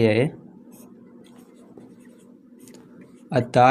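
Chalk or marker scratches along a board in a math class, a faint continuous scraping run that sits between brief bits of a man's speech at the start and end.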